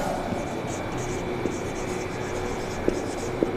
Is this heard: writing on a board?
yes